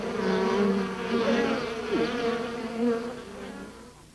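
Bees buzzing steadily and close, a dense droning hum with wavering pitch that holds throughout without pause.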